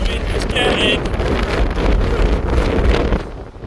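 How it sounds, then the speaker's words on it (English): Strong wind funnels up through a saddle between two high points on a hilltop stretch of the Cambrian Trail in Wales, roaring and buffeting loudly against the microphone as a continuous rushing noise. "the wind is just getting funneled up between the two high points either side of me here"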